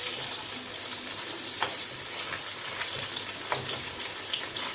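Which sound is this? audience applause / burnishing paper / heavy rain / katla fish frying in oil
katla fish frying in oil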